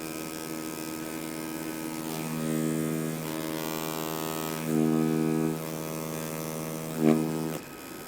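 A tattoo machine runs steadily with a dry, empty grip while lining, giving a close, continuous electric buzz whose pitch and intensity shift a few times over several seconds, with no talking.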